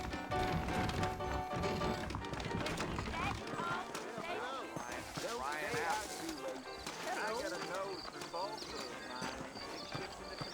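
Horses clip-clop at a steady trot in Red Dead Redemption, hooves knocking in an even rhythm, mixed with music and background game sounds.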